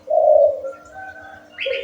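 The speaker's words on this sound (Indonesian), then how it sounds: "inilah saya buktikan langsung bahwasanya burung itu akan gacor kalau dia udah nyaman" A zebra dove (perkutut) coos close and clear, giving a drawn-out mellow note, then a quieter trailing phrase and a final short rising call, with no voices.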